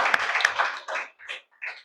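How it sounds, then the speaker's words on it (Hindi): An audience at a mindset session in a health club claps for Gopesh sir, giving a short burst of close applause that breaks into scattered, fading claps. "सो गोपेश सर के लिए एक जोरदार तालियां"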